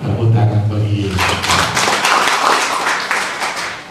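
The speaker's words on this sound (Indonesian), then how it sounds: "Tepuk tangan bagi Yesus" A church congregation claps in praise for Jesus, a dense burst of many hands that swells after a spoken call and continues steadily for a few seconds, close and loud.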